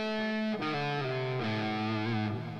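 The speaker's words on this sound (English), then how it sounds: "you can hear the menu tone for lead path sounds like this" The Rocksmith 2014 lead-path menu tone sounds as a loud, bright, distorted guitar-like chord that shifts pitch a few times over about three seconds, with no talk.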